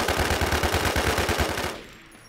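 IMI TAR-21 assault rifle in the shooter game BNG Infestation, firing one loud, close, rapid automatic burst of evenly spaced shots for about a second and a half before cutting off into near silence.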